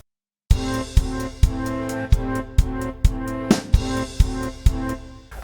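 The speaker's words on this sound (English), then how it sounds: "Like this, some string sounds like this." String patches from a SampleTank virtual instrument in Cubase start after a brief silence and play sustained chords with steady rhythmic accents about twice a second, loud and unaccompanied by speech.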